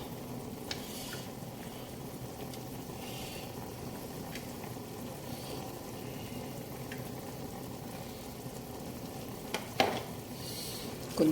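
Carrots and celery sticks in a pan of boiling liquid on the stove, a steady low bubbling and sizzling with occasional light clinks of a utensil, faint and continuous throughout.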